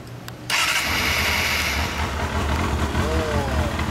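A Kawasaki Balius II ZR250 motorcycle engine cranks and fires half a second in, then settles into a loud, busy, even idle close by. Faint voices are heard beforehand.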